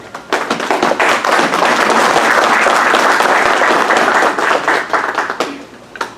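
A crowd at a road safety conference inauguration bursts into loud, sustained applause, many hands clapping together for several seconds before tapering off at the end.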